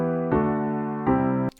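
Two sustained synthesized chords with passing notes, played in music software for an emotional beat, ring out clearly and alone, the second entering after a pause and both cutting off abruptly.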